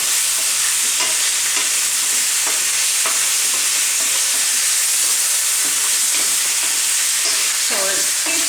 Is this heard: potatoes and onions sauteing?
yes